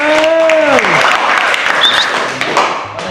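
A group of participants clapping after their presentation at a training session, a loud burst of applause that begins under a speaking voice and then continues alone, gradually thinning toward the end.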